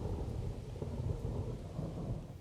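Steady heavy rain pours at an outdoor wedding venue while deep thunder rumbles continuously underneath, dense and close, with no voices.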